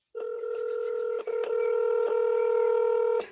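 Telephone dialing tones beep out a quick run of keypad presses, loud and close, with one short break partway through before the tones continue.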